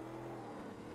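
Corvette C3 engine in the Automobilista 2 racing game, a steady loud drone with a strong low harmonic hum, sustained for about a second without clear revving changes or talk.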